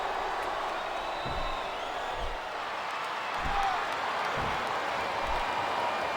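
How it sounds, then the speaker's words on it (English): Wrestling arena crowd from WWE SmackDown vs. Raw 2007: a steady wash of cheering and applause fills the background, with scattered thuds and slams rising out of it. "I can't remember the last time I seen a crowd so pumped up."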